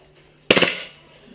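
A KSC Glock 18C airsoft pistol fires a single short, sharp rattling burst on full auto despite the selector set to semi, loud and close, then a brief decay into quiet.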